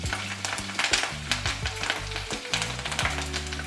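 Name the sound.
ponnanganni spinach leaves frying in ghee in a hot pan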